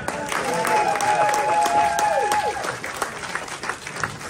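Audience applause at a midnight film festival panel, a dense wash of clapping heard under a sustained tonal sound that fades midway, with the clapping thinning toward the end.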